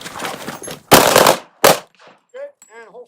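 Handgun shots fired during a shooting drill in a 1970s handgun class: two loud, sharp reports close by, followed by brief quieter sounds and a short voice.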